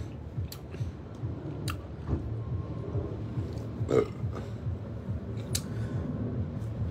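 A loud burp after a meal of dinuguan with rice and soft drinks, a short guttural belch rising around the middle of a noisy background with scattered clicks and chewing-like sounds.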